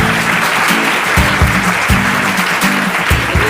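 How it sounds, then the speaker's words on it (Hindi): Loud, dense applause from a television quiz show audience fills the whole stretch, with a steady rhythmic beat of clapping or music underneath. "जोरदार तालियां हो जाए भाई के लिए"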